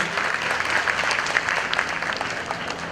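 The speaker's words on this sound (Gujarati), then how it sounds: "તેમને તાળીઓના ગડગડાટથી વધાવી લઈએ છીએ" Steady, dense applause from a seated crowd welcoming Manishaben Ahir onto the stage at the Mandal Seva Foundation Snehmilan gathering, a continuous even patter of clapping lasting the whole stretch with no voices over it.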